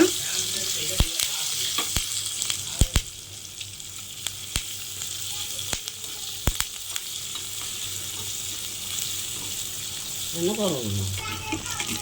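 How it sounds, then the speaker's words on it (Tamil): Oil sizzles steadily as shallots and curry leaves sauté, with sharp clicks and scrapes of stirring and a brief running tap near the end. "ஸோ சின்ன வெங்காயம் கருவேப்பிலை போட்டு வதக்கிடுங்க."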